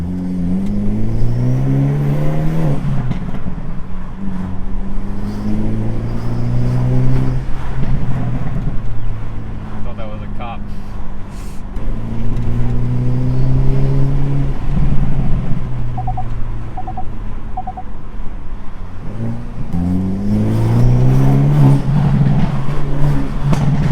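A Hyundai Elantra N tuned for zero turbo lag drives and revs hard, its engine climbing repeatedly through rising pitch sweeps with short pauses between pulls, loud and close, with no talking.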